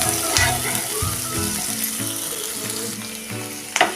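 Spice masala for a cashew gravy sautéing in a pan, a close steady sizzle with faint stirring, ending in a brief louder clatter.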